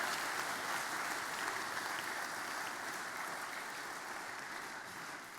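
Faint, steady crowd applause at a livestreamed young farmer competition grand final, a continuous wash of clapping that holds evenly for several seconds and fades slightly toward the end.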